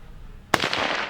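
A single sharp shot from a Mk I Lee Metford rifle cracks out after a quiet stretch, loud and close, with a brief echoing tail rolling away behind it.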